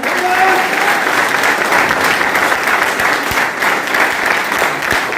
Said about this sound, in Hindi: एक बार सारे अचीवरों के जोरदार ताली मैं चाहता हूं।